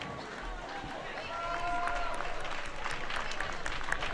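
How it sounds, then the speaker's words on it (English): Crowd in a school gym clapping and cheering for senior girls basketball players and their coach, a steady wash of applause that swells midway, with announcer talk and scattered voices underneath. "Step out there so we can clap for you."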